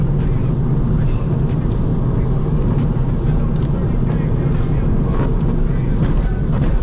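Inside a 2006 Volvo V50 T5 with all-wheel drive and a six-speed manual gearbox on an autumn drive, a loud, continuous low engine and road drone holds steady throughout.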